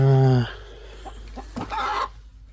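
Chickens cluck inside a farm coop, a strong drawn-out call at the start, then softer clucks mixed with a person talking nearby.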